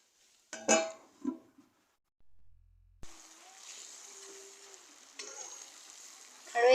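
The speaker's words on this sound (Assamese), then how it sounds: "আৰু অলপ টাইম এনেদৰে ভাজি থাকিম।" Pigeon meat with turmeric fries in a pan, a soft steady sizzle with brief stirring scrapes and clatter, fairly quiet and close.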